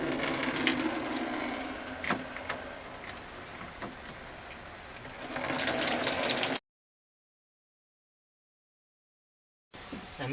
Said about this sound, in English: I hope I got enough bucket to catch all the water.